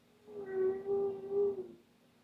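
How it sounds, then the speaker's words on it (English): A low whale moan from the video game Date Everything forms one sustained, wavering tone lasting about a second and a half, moderately loud, with no talking. "I'm really feeling these whale sounds."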